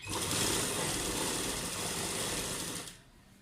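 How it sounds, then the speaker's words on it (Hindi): Sewing machine stitching the lining of a loose palazzo, a steady close whirring hum that runs evenly for about three seconds and then stops, with no talking. "इस तरह पूरे घेरे में हमने सिलाई लगा लेनी है।"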